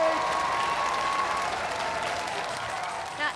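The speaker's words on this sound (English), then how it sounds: "give them a round of applause!" A studio audience applauds a robot combat team at a televised robot fighting competition, a dense, steady wash of clapping with some crowd noise, holding level throughout and fading slightly near the end.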